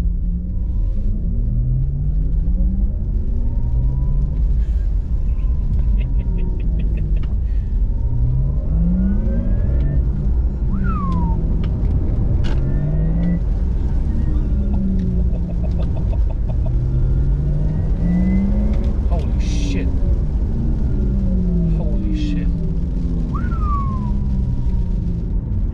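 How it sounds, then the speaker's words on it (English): A Porsche Taycan 4S electric car in Sport Plus mode accelerates hard at full throttle, a loud, constant rumble under a synthetic motor hum whose pitch sweeps upward again and again, with faint squeaks and clicks throughout. "That was my first time accelerating or stepping on the throttle fully"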